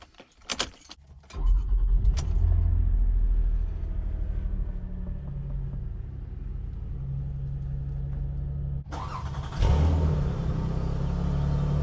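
A 2005 Toyota Highlander with about 200,000 miles: a quick jangle of keys, then the engine cranks and catches into a loud, steady idle rumble that holds, with a brief louder surge near the end.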